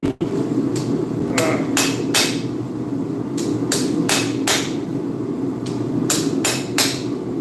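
A heavy hammer strikes steel again and again in uneven bursts of sharp metallic impacts, some spaced apart and some in quick clusters, loud and close over a steady low mechanical hum.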